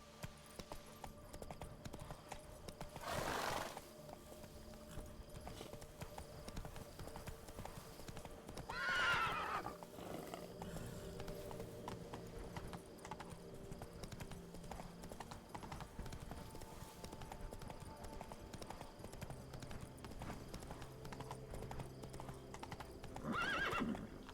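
Roach, the horse in The Witcher 3, galloping: steady, rapid clip-clop hoofbeats run throughout at moderate level, with a loud whinny near the start and another neigh midway, over a continuous game background.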